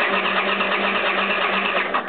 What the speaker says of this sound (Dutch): En ik kan hem nu starten.